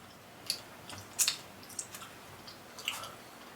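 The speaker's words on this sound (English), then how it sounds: "I'm still chewing." Close, wet chewing of tough taffy candy, with soft squishy clicks and smacks at irregular intervals over a quiet background.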